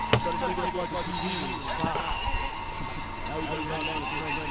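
Moving train in the Spider-Man PS4 video game, a steady rolling rumble with wheel squeal and metallic ringing, with game music and effects layered over it and some speech mixed in.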